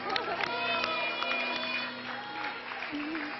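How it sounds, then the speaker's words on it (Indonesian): A television studio audience claps and cheers at moderate volume while voices talk over the applause. "Tepuk Thank tangan"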